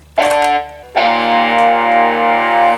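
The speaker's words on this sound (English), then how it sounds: "Guitars, you've got an electric guitar with distortion." Two heavily distorted electric guitar notes from a keytar ring out, a short one followed by a longer sustained chord, bright and buzzy.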